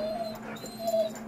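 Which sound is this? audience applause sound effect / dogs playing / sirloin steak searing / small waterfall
dogs playing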